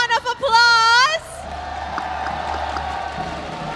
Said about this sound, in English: let's give Team SMG a warm round of applause.